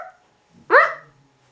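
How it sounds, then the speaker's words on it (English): A dog named Seaman, on the Lewis and Clark expedition, gives a single sharp close bark after a brief murmur, then quiet. "don't forget my dog Seaman"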